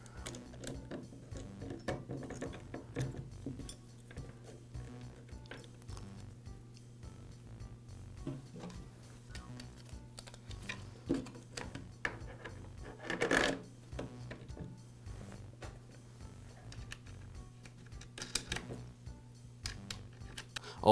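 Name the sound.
installing chainsaw bar, chain and side cover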